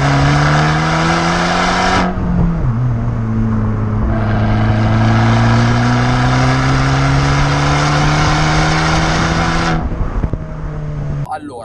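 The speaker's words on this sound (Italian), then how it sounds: "sentite il bel suono del Record Monza" An Abarth 695 with a Record Monza exhaust revs loudly and steadily, its engine note climbing and holding in a strong drone with brief dips as gears change, close and continuous for around eleven seconds.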